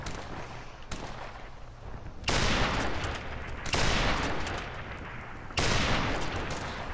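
Gunfire in Call of Duty Modern Warfare Remastered: three loud bursts of rapid automatic fire that start abruptly and continue for about a second or more each, with quieter ambient noise between them.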